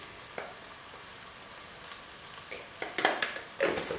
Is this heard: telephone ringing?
no